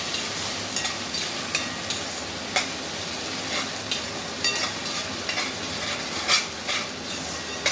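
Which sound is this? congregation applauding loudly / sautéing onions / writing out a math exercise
sautéing onions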